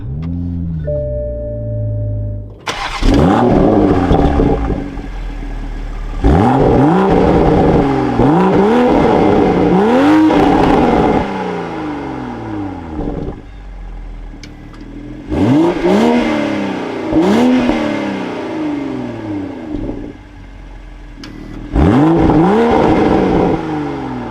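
A 2024 Toyota GR Supra 3.0 Premium starts with a starter whine and bark, then its engine revs repeatedly in rising, falling sweeps separated by idle gaps, loud and close, with no speech.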